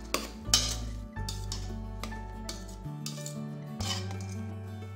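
A spoon stirs cabbage and dal stew in a cooking pot just opened after pressure cooking, with repeated metallic scrapes and clinks against the pot over a steady low hum.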